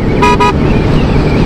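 Two short, loud horn blasts from an Apache RR 310 motorcycle riding on the Pune bypass highway, over constant rumbling wind and engine roar.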